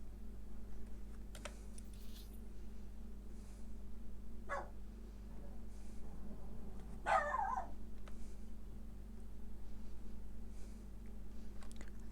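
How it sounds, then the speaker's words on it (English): A puppy barks once or twice at a leaf somewhere off in the room, short and moderately distant, while scattered computer keyboard clicks and a steady low electrical hum continue underneath. "That would be my puppy dog objecting to a leaf"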